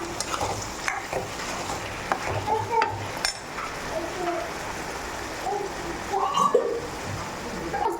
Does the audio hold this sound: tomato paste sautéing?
yes